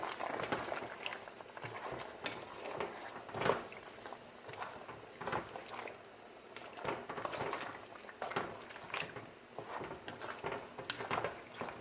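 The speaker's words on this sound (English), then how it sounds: "I'm going to add some ketchup. Add 2 tablespoons. I'm going to stir this in." A spoon stirs ketchup into a Jamaican cow foot brown stew in a pot, giving soft, irregular scraping and clinking with thick wet sloshing, fairly quiet and close, with no voices.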